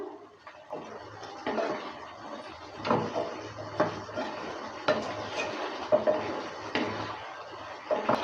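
A spoon scrapes and clinks against a pot while ghee is stirred into a thick chickpea and banana-stem curry, irregular stirring knocks with a faint wet simmer underneath.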